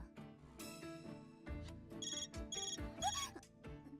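A smartphone ringtone chimes in a video game, a bright melodic tune with repeated tonal phrases, loud and alone for about four seconds.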